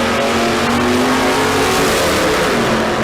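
A 1979 Camaro and a Datsun drag racing at Famoso Dragstrip, engines roaring loud and steady as the cars launch and accelerate, a dense continuous mechanical roar with no talk.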